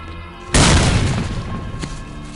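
A grenade detonates in STALKER Lost Alpha, a sudden loud boom after a quiet lead-in that rolls off into a decaying rumble, followed by a faint sharp click.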